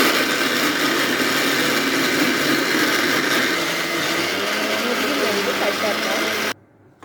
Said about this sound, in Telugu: మిక్సీ పడదామండి